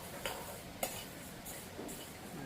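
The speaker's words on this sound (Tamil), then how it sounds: "நாங்க வெந்தயத்தை எல்லாம் வறுக்க போறோம்" Fenugreek seeds being dry-roasted and stirred in a pan: a faint background hiss with a few light scraping taps of a spoon against the metal, spaced apart and quiet.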